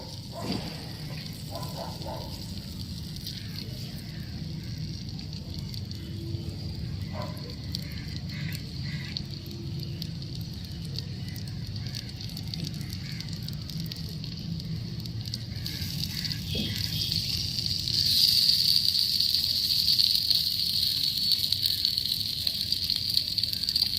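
Paneer tikka sizzling on a miniature tawa, a close, continuous crackling sizzle that grows louder and brighter toward the end.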